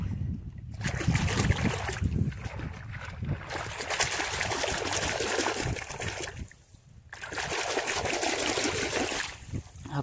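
A crab caught in Konkan is washed in water, with loud, close splashing and trickling that runs almost without a break and pauses briefly near the middle.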